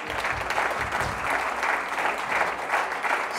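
A church congregation claps and cheers to acclaim Jesus during an Easter sermon, dense continuous applause filling the room at steady loudness with crowd noise underneath.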